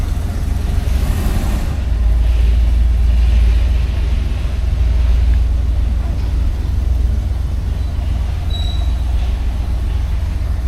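A 1970 Cadillac Deville is shifted into drive and rolls off, its engine giving a steady loud low rumble with a faint brief squeak partway through.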